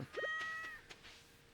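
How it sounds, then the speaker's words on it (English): A cat meows once in a farming video game, a short, clear, tonal call near the start, fairly quiet, followed by a faint soft sound and near silence. "I heard our cat."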